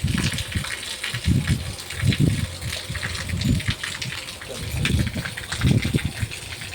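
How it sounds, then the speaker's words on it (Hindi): Heavy rain pouring down with water gushing and streaming steadily, a dense rushing wash with uneven surges throughout. "देख सकत हो संगवारी हो पानी कतना गिरतेच हवय और देख कतना धार चलतेच हवय"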